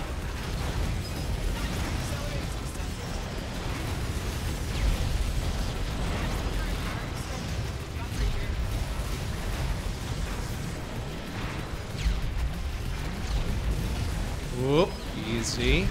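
Rapid rocket explosions and gunfire fill a hectic Assault Android Cactus stage, forming a dense, continuous barrage of low booms and pops with a few rising electronic chirps near the end, while someone talks over it.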